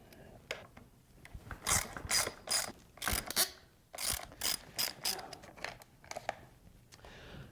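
Close clicking of Allen wrenches and a ratcheting tool while removing the hand guards from a motocross bike, in quick irregular bursts of sharp metallic ticks.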